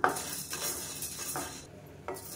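Grains, a small piece of dry ginger and cardamom being dry-roasted in a pan, with a few scraping stirs and light clinks of a utensil against the metal, fairly quiet and close, without voices.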